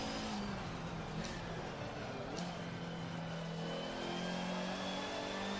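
A racing car engine in a video game bounces off its rev limiter, holding a steady, buzzing high-revving drone throughout with a faint voice underneath.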